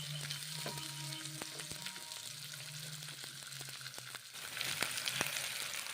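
Raw banana pieces sizzle and fry steadily in a pan as they are sautéed, with occasional stirring clicks and scrapes; the frying grows a bit brighter near the end, and no one speaks.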